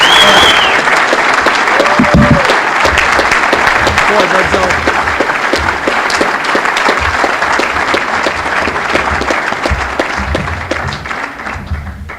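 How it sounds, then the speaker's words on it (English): Sustained applause from a large audience at a high school athletic Hall of Fame induction, dense steady clapping for the whole stretch, fading slightly toward the end, with a voice briefly audible early on. "So I'd like to give him a nice round of applause right here."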